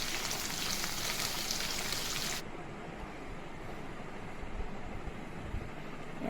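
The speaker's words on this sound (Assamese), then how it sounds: "ইয়াতে নিমখ জলকীয়া দি একেলগত মই ভাজি ল'লোঁ মাংসখিনি।" Chicken meat frying with salt and chili in a pan, giving a loud, steady sizzle that fills the air and then drops to a quieter, duller crackle partway through.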